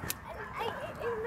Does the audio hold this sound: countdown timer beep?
no